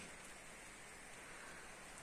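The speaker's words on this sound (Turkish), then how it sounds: "Bu arada yağmur yağıyor." Rain falls in a steady, even hiss that fills the whole stretch without a break. It sounds soft and distant, and no voices are heard.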